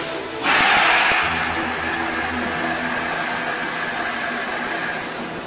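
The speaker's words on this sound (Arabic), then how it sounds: "المحرك يعمل." The world's largest ship engine starting up after assembly, a sudden broad roar that kicks in and then settles into a steady, loud mechanical hum with low droning tones underneath.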